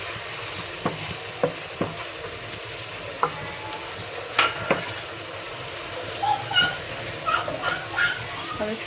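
Garlic, ginger and spices sizzle steadily in a hot pan for a chicken gravy, a soft continuous frying hiss broken by scattered sharp clicks and scrapes of a spoon stirring, close by with no talking.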